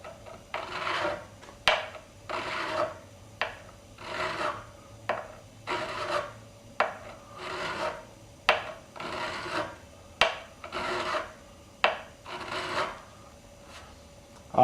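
A file is drawn over the fret wire of a 1965 Gibson Melody Maker in about fifteen close, even rasping strokes with short pauses between them, scraping metal alone without talk.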